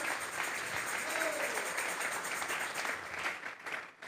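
Church congregation clapping in steady applause for several seconds, a dense even patter filling the room, tapering slightly near the end.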